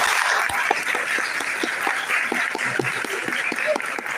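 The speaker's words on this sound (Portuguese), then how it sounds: "Os aplausos para ele, por favor" Audience applause at a quilombola-territory community event in Passo de Camaragibe, Brazil, steady clapping from a moderate crowd for about four seconds with occasional louder individual claps, no talking over it.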